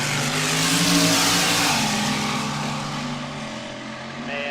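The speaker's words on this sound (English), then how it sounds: "Pat Sayasink from Muscatine brings that Keep That Baby Floored slingshot dragster up for a run" The Keep That Baby Floored slingshot dragster makes a drag racing run in a nitro event lane, its engine a loud, sustained roar that slowly fades as the car pulls away.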